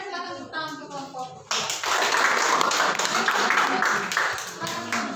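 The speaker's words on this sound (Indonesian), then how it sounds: "Oke, silakan tepuk tangan untuk kelompok." A classroom of students clapping for a student group, starting after a brief spoken line, then a burst of dense, close applause that holds steady for several seconds before easing slightly.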